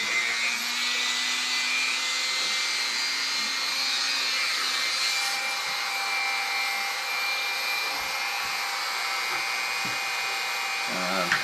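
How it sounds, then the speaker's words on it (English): Dremel rotary tool cutting plastic from the chassis of an HPI Ford GT drifter RC car: a continuous high, whining grind, close and steady throughout, with no talking. "So we're going to take the Dremel and get that out of there."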